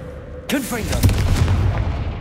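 A Confringo blasting spell goes off in Hogwarts Legacy, a sudden loud burst followed by whooshing crackles and a rumbling tail. A voice is heard just before it.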